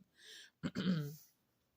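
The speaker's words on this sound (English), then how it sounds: "There goes that cough coming back." A soft breathy exhale followed by a single rough cough or throat clear, close and fairly quiet, with no talking.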